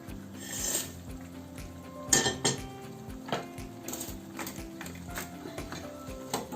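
A utensil clinks and scrapes against a pan while vegetable noodles are stirred, with intermittent metallic knocks and rattles, close and fairly quiet, with no talking.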